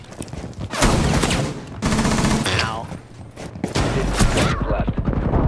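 Shotgun shots in Rainbow Six Siege land as loud, close booms in a few separate bursts, between stretches of in-game noise, with a player briefly talking.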